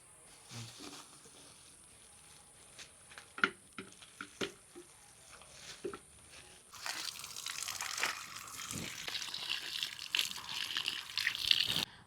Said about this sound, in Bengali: মাংসটাকে আগে ভালো করে ধুয়ে নিই।